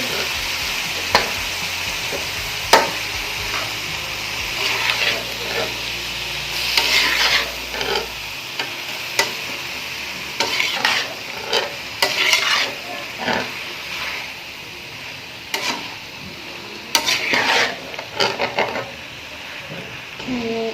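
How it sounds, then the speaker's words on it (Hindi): A spoon stirs kachnar buds into keema frying in a pan, with a steady loud sizzle under repeated scraping and clattering strokes that come and go throughout. "अब मैं इसमें जो है वो कचनार डालूँगी। और इसको अच्छे से मिक्स करेंगे।"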